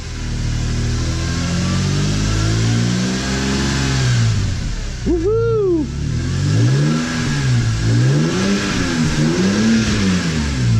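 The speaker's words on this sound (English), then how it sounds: "Sounds like a new engine." BMW E46 M3 with the S54 engine after a Vanos rebuild, revving close up from idle in repeated rising and falling swells, with a sharp blip midway and a person whooping briefly.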